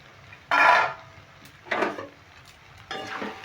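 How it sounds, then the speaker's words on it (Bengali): A metal lid is lifted off a pot of winter red radish ghonto cooking on medium heat, giving three short clattering scrapes spaced about a second apart, close and fairly loud against a quiet kitchen. "এবার আমি ঢাকাটা খুলে নিচ্ছি"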